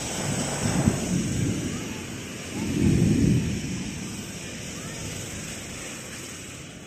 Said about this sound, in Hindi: अचानक बादल गरजने का आवाज़ ज़ोर ज़ोर से सुनाई पड़ने लगा